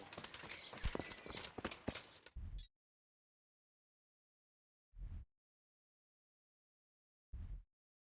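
Horse hooves clip-clopping in the medieval video game Kingdom Come: Deliverance: a dense, close run of hoofbeats for about two seconds, then silence broken by two short, isolated bursts.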